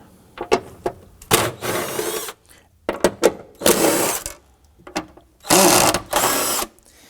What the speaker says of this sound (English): So we're going to use our impact gun to remove these 3.